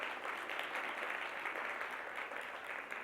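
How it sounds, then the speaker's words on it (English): Lecture audience giving a round of applause for a speaker at an anniversary lecture event, steady dense clapping from many hands throughout, fairly distant and even in level with no gap. "That deserves a round of applause"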